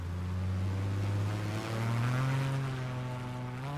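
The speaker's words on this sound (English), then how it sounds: "God, that engine sounds so mean." An aircraft engine runs at a steady, droning idle in a flight simulator game, a loud, continuous hum with a slight pitch rise partway through and no talking.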